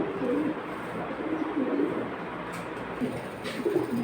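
Female pigeon cooing close by at a pigeon market, several soft throaty coos in short bursts over a low steady background hum.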